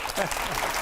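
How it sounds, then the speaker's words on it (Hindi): Studio audience applause on a Hindi talk show, a brief, loud, continuous burst of clapping. "तालियों की आवाज थोड़ी कम आ रही है मुझे।"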